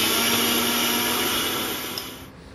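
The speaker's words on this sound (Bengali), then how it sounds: "এবার মিক্সিতে বেটে নেব মুগ ডালটা।" A kitchen mixer grinder whirring loudly as it blends soaked moong dal with a little water, a steady motor drone that winds down near the end.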